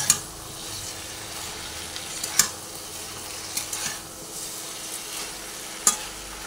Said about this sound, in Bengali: ঢেঁড়স আর আলুটা পুরোটা আমি এর মধ্যে ঢেলে দিলাম। আবার ভালোভাবে নাড়াচাড়া করে নিই।